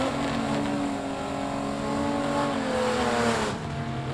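Gasser-class drag race cars, including a Studebaker, roar down a drag strip at a Southeast Gassers Association qualifying event, one loud sustained engine tone climbing in pitch with a brief drop near the end.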